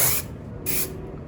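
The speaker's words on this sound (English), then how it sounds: "Spray the bangs," Hairspray hisses onto styled beach-wave hair in two short, close bursts, a longer spray followed by a quick second puff, with nothing else heard.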